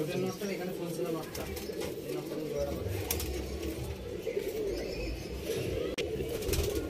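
Pigeons coo continuously in a loft of selected breeding pairs, a dense low murmuring chorus from many birds with occasional wing flutters, filling the whole stretch under a voice.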